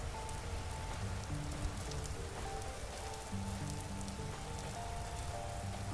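Steady, dense dripping and trickling water in the video game Vintage Story, a continuous rain-like patter with faint tonal game sounds underneath, heard alone without talk.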